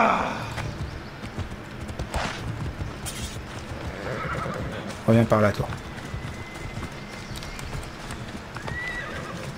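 Rhythmic hoofbeats of a galloping horse in the video game Assassin's Creed Odyssey run throughout with a brief whinny midway, while a person talks in French over the sounds.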